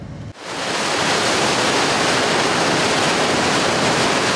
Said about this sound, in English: Here we see the dredger sucking the material off the bottom of the ocean floor, harbor floor, and bringing it into the belly of the ship.